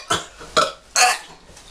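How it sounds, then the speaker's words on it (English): Three short, loud burps from a person up close, spaced in quick succession, the last one longer and rougher, with no talk. "Don't burp in my face"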